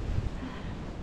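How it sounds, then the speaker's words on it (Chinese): Strong wind buffeting the microphone on the 3143 m summit of Fansipan mountain, a steady low rumble with heavier gusts early on and no talking. "很冷，很大风"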